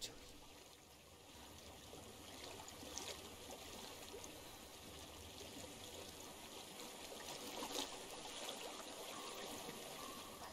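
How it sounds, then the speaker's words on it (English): Flowing water in the video game Hellblade: Senua's Sacrifice, a quiet continuous trickle and stream wash with faint ambient texture, steady throughout and heard alone. "I hear water."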